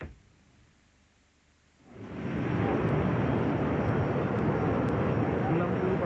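A Hercules military transport aircraft passes during an annual exercise at Halim Perdana Kusuma air base in Jakarta, its loud, steady engine roar rising suddenly after a quiet start and holding at full strength.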